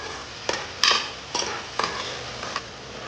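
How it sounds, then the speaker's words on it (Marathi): Onion frying in a little oil in a kadhai, with a handful of sharp, close stirring scrapes over a soft sizzle, and no talking. "आता याच्यामध्ये कढईत गेलं थोडंसं तेल आणि त्याच्यामध्ये आता कांदा फ्राय करायला चालू आहे"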